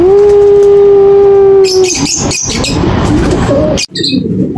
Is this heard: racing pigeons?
yes